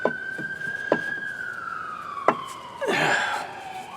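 Police sirens wail through a city street in Columbus, a long wavering tone sweeping steadily at moderate distance, with a second siren burst joining near the end over traffic noise.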